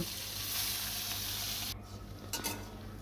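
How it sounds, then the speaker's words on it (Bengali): Fish heads fry in hot oil in a village home kitchen, with a loud, dense sizzle that drops abruptly partway through, followed by lighter crackling and a few utensil knocks. "এবার মাথাগুলো ভেজে নেব"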